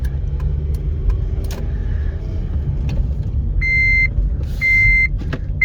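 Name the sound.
car seatbelt warning chime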